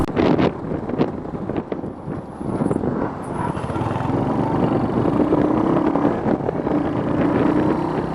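A bus rumbles past on a narrow single-lane forest road on the Munnar Gap Road in Idukki, its engine drone swelling and lingering amid heavy wind buffeting on the microphone.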